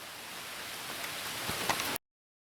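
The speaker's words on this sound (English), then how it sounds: "The water drip line? That's dripping off my roof." Steady patter of rain dripping off a roof and splashing onto wet ground, with a few louder drops standing out near the end.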